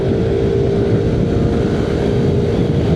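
A Yamaha Lexi 155 scooter's engine pulls steadily under acceleration, a constant close drone with heavy low rumble and wind noise for the whole stretch, no voices over it.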